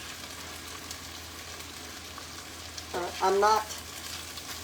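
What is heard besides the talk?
chicken thighs sizzling as they sear in a pan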